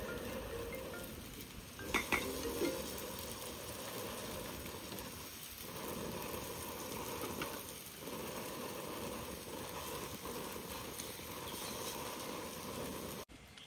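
Fish frying in hot oil outdoors near the sea: a continuous, faint crackling sizzle like light rain, steady throughout with a couple of small sharper pops early on.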